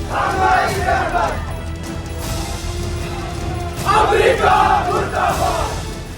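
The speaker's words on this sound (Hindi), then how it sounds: "वहीं इलाके में कई जगह लोगों की भीड़ जमा होती नजर आई" A protest crowd in Kashmir chants loudly in unison, with rhythmic bursts of massed shouting that swell and fade and then rise again in a second wave, close and dense.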